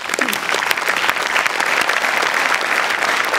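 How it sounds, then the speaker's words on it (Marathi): An audience at a Marathi comedy show applauding, a dense, steady burst of clapping from a crowd that holds for several seconds. "या सामाजिक जाणीवेबद्दल मला खूप टाळ्या वाजवायच्या वाटतात."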